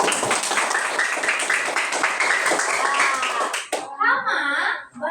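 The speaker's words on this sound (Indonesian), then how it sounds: "Tepuk tangan dulu untuk Prisa" A classroom of children bursts into loud, dense clapping for a student, holding steady for several seconds before stopping abruptly, after which a voice speaks.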